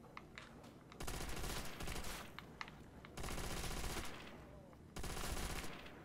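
Browning machine gun in Call of Duty: World at War zombies mode, firing in three long sustained bursts separated by short pauses, loud and close, with faint game sounds between bursts.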